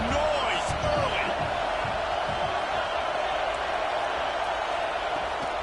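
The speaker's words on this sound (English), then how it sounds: "This crowd bringing the energy and noise early." Steady stadium crowd roar in a Clemson versus Florida State college football video game, a continuous loud wash of cheering with brief thumps and swells, running under a commentator's voice.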